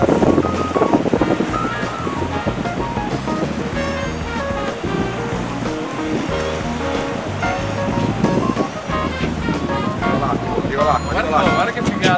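Sea waves at Riccione port on a February day, a continuous loud roar of surf and rushing water mixed with wind noise, with voices talking over it throughout.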